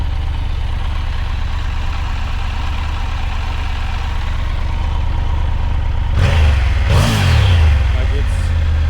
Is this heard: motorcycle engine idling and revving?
yes